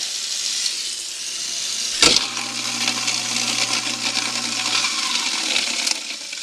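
A kitchen sink garbage disposal, just repaired, switches on with a sharp clunk and runs with water pouring through it, a steady motor hum under the rushing, splashing water that continues after the motor stops.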